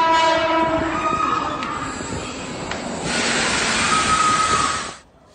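A Sydney train arrives at a station, its horn sounding in long tonal blasts over rumbling, clattering wheels and a hissing brake wash, loud and near before cutting off abruptly at the end.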